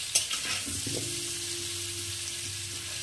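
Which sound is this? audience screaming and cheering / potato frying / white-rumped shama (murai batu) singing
potato frying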